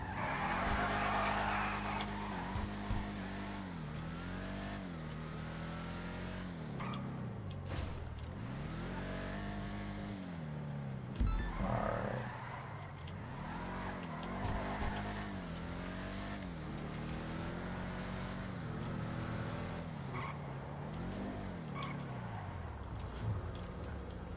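A car in the GTA video game drives continuously with a steady engine drone that rises and falls through gear changes and revving, with occasional tire squeals and skids, loud and unbroken throughout.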